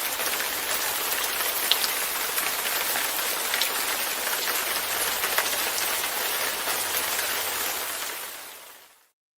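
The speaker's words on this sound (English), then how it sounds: "It's raining in here." A rain sound effect pours steadily, a dense hiss of drops on a surface at close range, holding level for about eight seconds before fading out quickly at the end.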